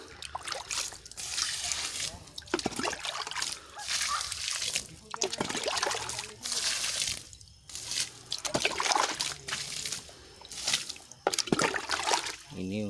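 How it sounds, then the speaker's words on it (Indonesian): Fertilizer solution splashes and trickles steadily onto grape plants in a garden as they are watered, a close, continuous wet pouring with brief pauses, while a person talks over it. "Ini untuk yang fresh, belum lama tanam, kita siram juga."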